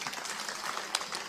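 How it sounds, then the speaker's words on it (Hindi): Applause from an audience at a religious discourse gathering, a brief steady patter of many hands clapping at moderate distance, with no talk over it. "ताली बजा दो इनके लिए"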